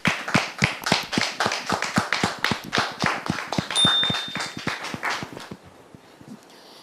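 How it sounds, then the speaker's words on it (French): An audience at a church gathering claps in unison, with loud, regular rhythmic beats roughly three to four per second that carry on steadily before stopping abruptly, leaving quiet. "Merci de les recevoir avec vos applaudissements."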